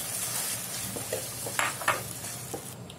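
Gravy goes into a pan of paneer and grapes sabzi, giving a soft sizzle with a few stirring scrapes and splashy bursts, fairly quiet and close, with no talking.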